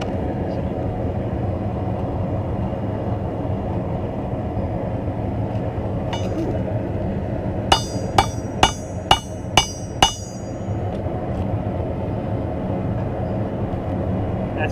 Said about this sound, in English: we're forging down the reins at this point.